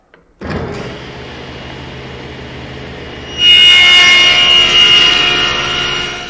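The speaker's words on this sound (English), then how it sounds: "I've lowered my saw blade and moved my rip fence over, and now I can take that final cut" A table saw with its blade lowered and the rip fence moved over takes a final cut through spline material for a shadow box: the motor spins up with a steady whine, then grows louder and brighter as the blade bites into the wood for about three seconds.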